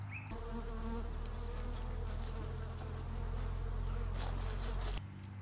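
Dense swarm of honeybees droning steadily at an open apiary set up under trees, a loud continuous buzz with many overlapping wingbeats that cuts off abruptly near the end.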